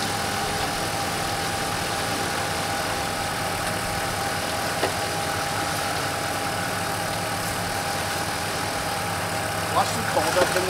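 A Lincoln car engine idles steadily at close range, a low continuous hum with a few small knocks near the end and faint voices in the background, while the owner checks it over on a cold day.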